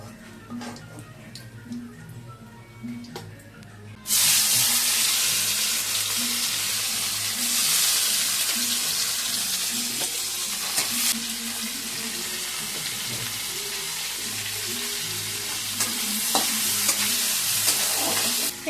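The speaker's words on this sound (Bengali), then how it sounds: "মাছগুলো ভাজা হয়ে গেছে" Fish frying in a pan: after a few seconds of quiet kitchen clatter, a loud, close, steady sizzle starts suddenly and keeps hissing, with occasional stirring clinks.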